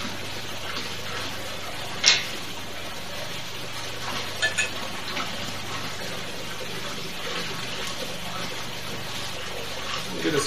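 A drink pours from a brand-new bottle as a soft, steady liquid trickle with a clink near the start, quiet and close, while a person talks over it.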